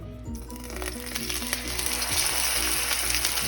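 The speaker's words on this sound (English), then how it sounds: "we're going to pan sear the back strap before we put it on the smoker" Back strap searing in a pan over medium-high heat before it goes on the smoker, giving a steady close sizzle and crackle with a few faint utensil clinks and no talking.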